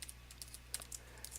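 A command is typed on a computer keyboard as a quick, irregular run of light key clicks, close and fairly quiet, over a steady low electrical hum, with no talking.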